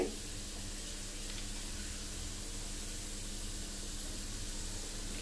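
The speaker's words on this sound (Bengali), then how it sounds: "এখন এটা হালকা করে ভেজে নিচ্ছি।" Garlic fries gently in oil for olive pickle, giving a steady, even sizzle and hiss throughout with no breaks, heard close and alone.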